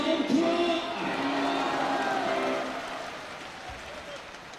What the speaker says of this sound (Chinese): 掌声送给翟小川